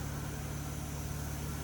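A truck-mounted carpet cleaning machine runs with a steady, even engine drone and a low rhythmic pulse, constant and unbroken throughout, with no talking.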